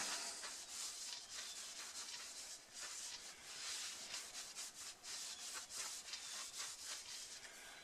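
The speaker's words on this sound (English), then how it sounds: "But WD-40, some 400 grit." A metal tool is sanded by hand with 400 grit sandpaper wet with WD-40, making a quiet, rhythmic back-and-forth rubbing that repeats steadily throughout.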